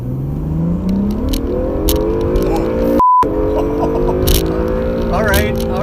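Cars revving and accelerating side by side in a drag race from a standing line, engine tones climbing steadily in pitch over a loud, continuous roar, with a brief dropout midway and voices chatting on top.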